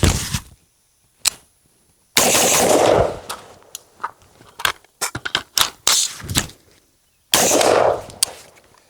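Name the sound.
AR15 rifle firing rounds rapidly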